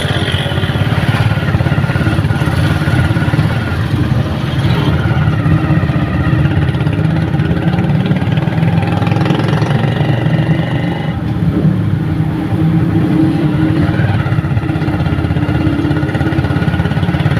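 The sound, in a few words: motorcycle engine riding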